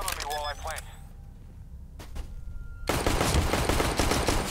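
A voice speaks briefly, then after a quiet stretch with a couple of sharp thumps, a dense continuous burst of rapid gunfire erupts close and loud in Counter-Strike: Global Offensive.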